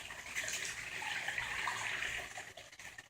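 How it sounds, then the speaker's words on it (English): Water from the jets of a spa tub spills steadily into a swimming pool, a continuous near splashing rush with no talk over it. "we got the tub with all the spa jets, water falling off right into the pool"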